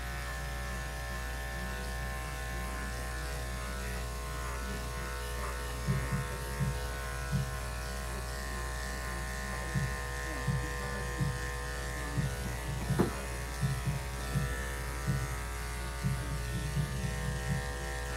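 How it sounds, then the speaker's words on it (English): Electric clippers shaving a cat's belly during grooming, with a steady close motor buzz running throughout and short scraping pulses as the blades pass over fur. "We want to shave his belly down here."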